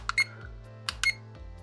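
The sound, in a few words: AliExpress alarm clock beeping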